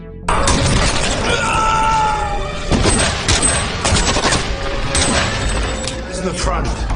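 A chaotic shootout between gangs and corrupt police in an action film, with dense bursts of gunfire, shattering impacts and crashes continuing loudly throughout under voices.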